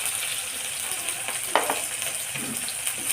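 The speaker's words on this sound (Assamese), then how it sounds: "ধুনীয়াকৈ গৰম হৈ যোৱাৰ পিছত মই কুটি থৈ দিয়া পিঁয়াজ আৰু জলকীয়াখিনি দি দিছোঁ।" Chopped onion, green chili, ginger and garlic crackle in hot oil, a soft, steady sizzle with a few sharp pops and scrapes partway through, heard alone without voices.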